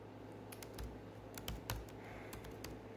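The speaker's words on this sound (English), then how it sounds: "I'm very slow about it because I'm terrible on the keyboard" Typing on a computer keyboard at an animal boarding and daycare front desk, with slow, uneven key clicks and a few louder taps over a low steady hum, no talking.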